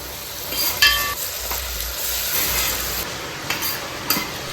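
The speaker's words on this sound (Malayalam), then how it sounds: "ഇതിലേക്ക് ആവശ്യത്തിനുള്ള ഉപ്പും കൂടെ ഇട്ട് കൊടുത്ത് നല്ലതുപോലെ വഴറ്റിയെടുക്കണം." Thinly sliced onions sauté with salt in a pan for a Kerala-style rabbit roast, a steady close sizzle broken by a few scraping stirs and light clinks.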